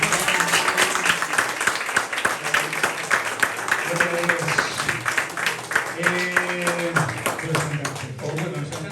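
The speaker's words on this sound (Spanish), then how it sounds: "Vamos a dar un fuerte aplauso." A crowd at a church service claps in a dense burst of applause while voices carry on underneath.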